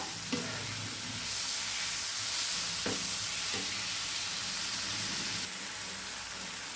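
Onion and tomato softening in a pan while being stirred, a quiet, even sizzle broken by occasional spoon scrapes, no voices.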